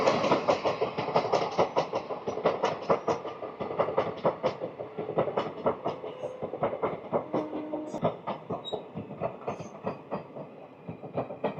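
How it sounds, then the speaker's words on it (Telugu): The Hyderabad–Kollam express rolls past a small station, wheels beating a steady rapid clickety-clack over rail joints, loud and close with a low rumble underneath, the rhythm slowing slightly and fading a little toward the end; no talking. "హైదరాబాద్ కొల్లం ట్రైన్ అది."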